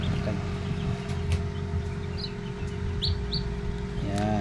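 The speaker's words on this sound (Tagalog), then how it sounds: "Yun, meron tayong bagong pisang sisiw rito." Newly hatched chicks near an incubator, a few faint high chirps over a constant low mechanical hum.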